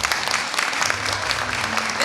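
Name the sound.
audience applauding the guitarist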